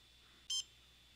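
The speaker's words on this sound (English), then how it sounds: "You hear the beep." A single short electronic beep from a ROBOTIS Premium robot controller, clear and high-pitched, against a quiet background hum.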